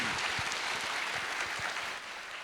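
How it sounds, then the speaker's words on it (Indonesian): A university lecture audience claps steadily, a dense wash of applause that holds for a couple of seconds and then tapers slightly. "Sekali lagi tepuk tangan yang meriah untuk Pak Ganjar."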